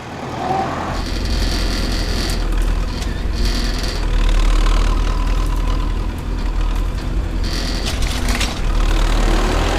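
A YUMZ-6 tractor engine with a cultivator attached runs steadily, a loud low diesel rumble that holds throughout with slight surges.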